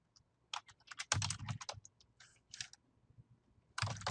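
Typing on a computer keyboard, irregular clusters of close, crisp keystrokes with short pauses between bursts, quiet and without talking.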